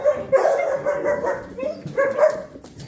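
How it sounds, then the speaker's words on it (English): A litter of puppies barks, yips and whimpers in a steady, overlapping chorus close by, with high, thin yelps coming in short bursts. "Come on, puppies."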